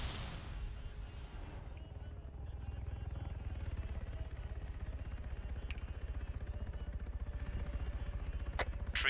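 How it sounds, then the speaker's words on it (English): A helicopter flying in the Arma 3 military game, a distant, rapid low rotor thumping that builds gradually and stays steady, with faint scattered background noises. "I'm hearing another helicopter."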